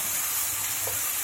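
Ground turmeric, cumin, coriander and chilli powder frying in a pan after onion, ginger and garlic, a steady soft sizzle with faint stirring, close and continuous, no voices.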